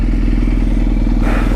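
A 1999 Yamaha YZF600R idles through its exhaust, giving a loud, close, steady low burble with a rapid, even pulse and no voices.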